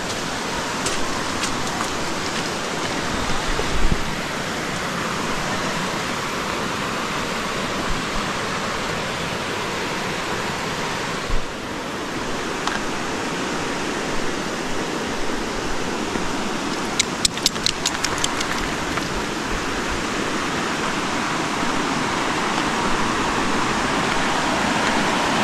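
A waterfall on the Lost Cove Loop trail roars in a steady, dense broadband rush of falling water that continues unbroken throughout, with a few faint clicks and footsteps on slippery rock close by.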